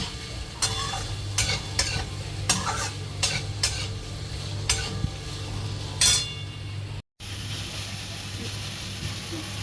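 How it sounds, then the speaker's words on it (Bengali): Potato and pointed gourd curry stir-fried with sugar in a pan, a steady sizzle broken by repeated scraping strokes of a spatula with occasional clinks, and one brief dropout near the end. "এখন চিনি দিয়ে আমি এটাকে ভালো করে কষাবো।"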